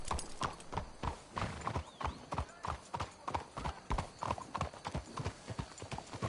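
Steady clip-clop of horse hooves trotting close by in Red Dead Redemption 2, an even rhythmic gait with a brief whinny-like tone in the middle.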